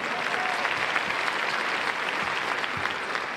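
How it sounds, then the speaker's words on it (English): An audience at a news station event applauds steadily, a dense even wash of many hands clapping throughout, with no talking over it. "Can we get a round of applause for that?"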